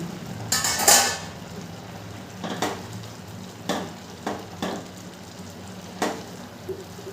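Pineapple chutney sweetened with sugar cooks in a pan, with a soft steady sizzle underneath and a series of sharp scraping knocks from a spoon stirring against the metal every second or so, close by and with no talking.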